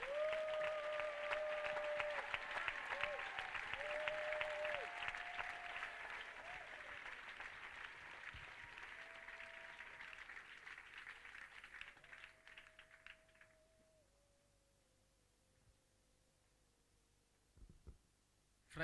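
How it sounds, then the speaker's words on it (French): A church congregation applauding together, sustained loud clapping for about thirteen seconds with sung or held voices over it, then fading to quiet. "Acclamez."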